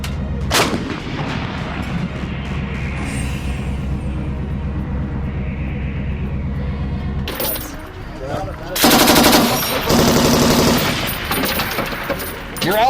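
Artillery guns fire on a battlefield, heavy booms and rapid gunfire over constant rumbling, with a louder burst of shots toward the end.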